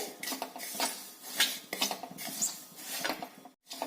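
Spice masala with sesame seeds being roasted in a pan over low heat makes soft, steady scraping and light rattling as a spatula keeps stirring, close by and fairly quiet, with a brief drop to silence near the end.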